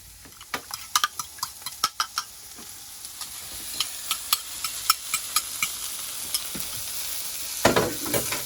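Scrambled eggs sizzle in a cast iron pan while a utensil stirs them, with a rapid series of sharp, close scraping taps over the steady frying hiss.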